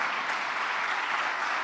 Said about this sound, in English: whenever you want to clap and applaud,